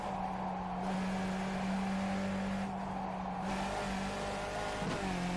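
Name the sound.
Skip Barber race car engine at Lime Rock Park in the video game iRacing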